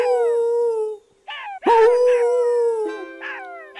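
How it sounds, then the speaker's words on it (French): Jackals howl and yip from a distance, several rising and falling wails overlapping in a long chorus with short breaks, no talk over them. "l'aboiement lointain de ses compagnons chacals"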